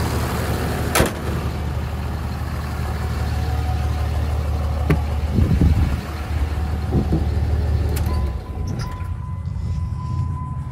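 A 2005 Cummins 5.9 diesel truck with a loud aftermarket exhaust idles close by, a steady deep rumble with a few sharp knocks and clatters, easing off near the end.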